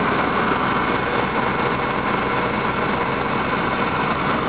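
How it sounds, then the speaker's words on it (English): Noisy vehicle motor idling steadily with a dense, rough rumble and constant vibration, loud and close with no pauses or voices. "You can tell there's a lot of noise coming out of this motor."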